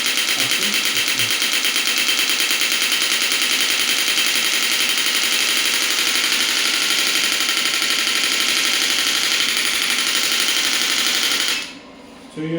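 A medical-grade shockwave therapy device for rehabilitation delivers rapid, steady mechanical pulses at a varying rate, heard as a loud continuous buzzing rattle up close. It stops abruptly near the end.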